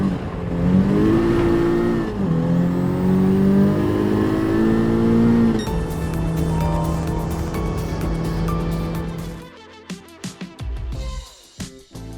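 A Honda Civic Type R Limited Edition FK8 in a racing video game revs and climbs through its gears with rising engine tones and shift drops. The sound breaks up into clattering, choppy bursts near the end.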